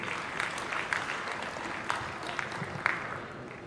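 Audience clapping at the Dharmaveer 2 trailer launch event, a fairly faint, continuous patter of many hands with a few sharper claps standing out.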